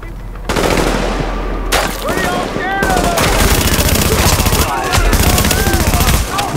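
Rapid automatic gunfire from a weapon in The Division, loud sustained bursts of shots with brief gaps, dense and close, with game effects around and a voice speaking briefly.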